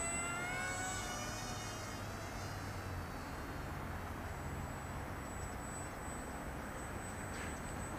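Electric motor of a Z51 Predator beginner RC airplane buzzing in flight, a thin high whine shifting in pitch with throttle over steady outdoor background noise.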